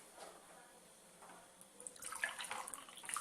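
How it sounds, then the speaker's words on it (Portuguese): Water from a tap pours into a glass, starting as a faint trickle and swelling into a brighter, louder splashing stream over the last second or so. "Eu só vou pegar um pouquinho de água pra você."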